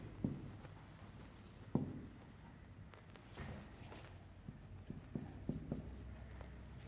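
Pen or chalk writing during a class lesson: faint scratchy strokes and occasional taps, quiet against the room's background hum, with no one talking.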